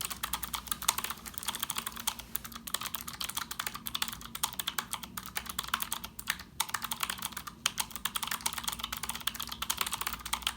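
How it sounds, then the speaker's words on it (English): A Keychron K1 (Version 2) keyboard with blue switches is typed on rapidly, giving dense, crisp, clacky keystrokes in a steady fast stream, close and fairly quiet, with no talking. "As you can hear, it sounded really clacky and very satisfying to type on."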